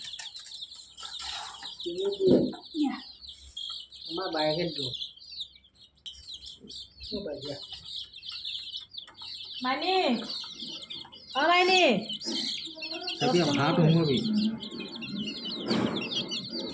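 Chickens cluck and call in short bursts, some close by, while people talk intermittently over and between the birds.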